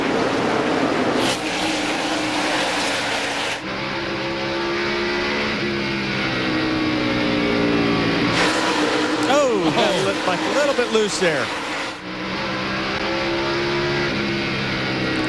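NASCAR race cars roar around the track at the 2001 Sharpie 500, a loud continuous engine drone with cars whooshing past, heard under a race commentator's talk.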